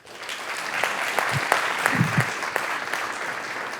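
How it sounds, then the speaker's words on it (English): Audience applause at a research panel on the border humanitarian crisis, steady moderate clapping from a seated crowd filling the room, with a few low thumps and murmurs mixed in. "Please give her a round of applause."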